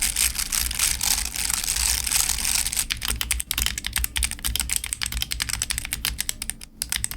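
A stock Redragon mechanical keyboard, straight out of the box and unmodified, clacks under rapid, continuous typing close by, with dense, loud keystrokes that stay steady and then turn slightly sparser toward the end.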